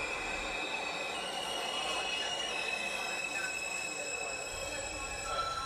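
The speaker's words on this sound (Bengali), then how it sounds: "ট্রেন এলো 10 মিনিট লেটে।" A train pulling into a station, with steady broadband rumble of rolling rail cars, faint wheel squeal and high metallic tones, continuous and fairly close, with no talk.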